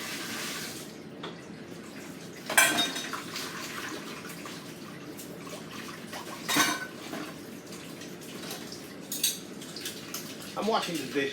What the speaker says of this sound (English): I'm washing the dishes a little bit